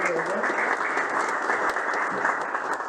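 Audience applause at a university Independence Day celebration honoring the first Rangers and Rovers, a steady, dense wash of clapping that fills the whole stretch without a break.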